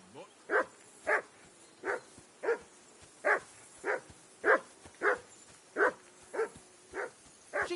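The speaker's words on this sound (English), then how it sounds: "Jesus, Henry, that barking's driving me nuts. Can you get your dog to shut its beak?" A dog barks steadily in the Kingdom Come 2 video game, about a dozen evenly spaced, mid-distance barks repeating in a regular rhythm with no talk over them.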